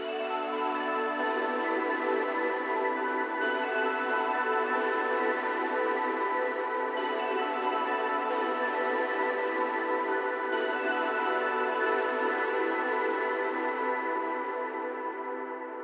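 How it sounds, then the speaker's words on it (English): Hive synth keys preset EH Silverium playing a MIDI melody, bright sustained tonal chords with rich harmonics, steady and alone, fading out gently at the end. "I'm just using this Hive preset EH Silverium from the Keys and Classics Bank"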